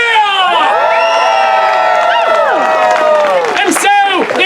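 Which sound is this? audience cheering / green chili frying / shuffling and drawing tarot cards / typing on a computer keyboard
audience cheering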